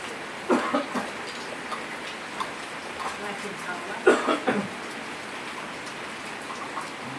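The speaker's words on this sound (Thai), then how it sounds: "วันนีฝนตกอากาศดีๆ" Rain falls steadily as a continuous soft hiss, with a few louder drops or taps standing out now and then, recorded close by, with no voices over it.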